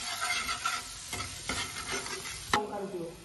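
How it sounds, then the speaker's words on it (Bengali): Spice paste with turmeric, cumin powder and sugar fries in a pan for an egg chicken Mughlai curry, a close sizzle under the scrape of a spoon stirring, with a sharp clatter near the end. "ভাজা ভাজা করে নেবো মশলাটাকে।"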